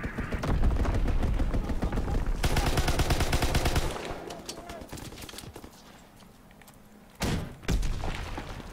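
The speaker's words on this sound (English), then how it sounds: "Sending mortar rounds." Mortar rounds and gunfire from the World War II shooter Call of Duty WW2, with dense rapid gunfire and heavy thuds for several seconds before fading to quieter distant rumble and another sharp loud burst.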